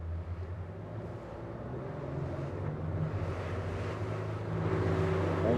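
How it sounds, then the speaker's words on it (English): Twin 300 hp Yamaha outboards on an Invictus GT 320S motor boat in the Gulf of Tigullio, Ligurian Sea, drone with a steady low rumble that swells louder toward the end, mixed with wind and water noise. "We can hear a nice roar at the start, a nice revving to immediately get the bow into trim"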